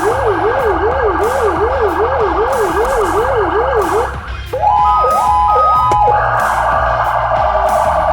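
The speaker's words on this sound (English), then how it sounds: "Different siren tones." A close, loud emergency vehicle siren from a Code 3 Matrix package warbles rapidly, pauses briefly, then shifts to a stepped two-tone pattern and finally a steady high tone.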